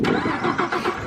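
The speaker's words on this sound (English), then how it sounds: "All right, start the car." A supercharged Mustang GT500 engine cranks and catches, settling into a steady, loud, close rumble with slight pulsing throughout.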